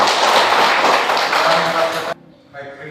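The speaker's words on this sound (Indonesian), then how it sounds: "tepuk tangan untuk Melani." Children in a classroom lesson clap for a student named Melani: dense, loud applause for about two seconds that stops abruptly, leaving a quiet room with faint sounds.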